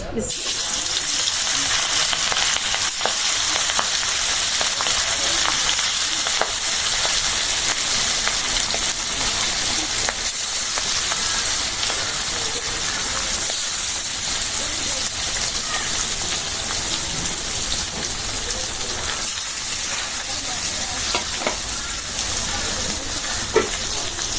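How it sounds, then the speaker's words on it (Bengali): Spice-rubbed fish fries in hot oil, a loud, dense, continuous sizzle close by with faint stirring clatter underneath. "এদিকে তেলটা গরম হয়ে গেছে দিয়ে দিই মাছ"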